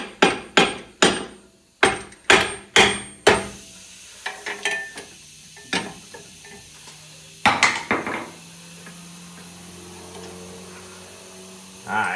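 A hammer taps a bolt through an independent rear suspension during a coil spring replacement, a rapid series of sharp metallic strikes followed by sparser, lighter taps and a faint ringing, close and alone.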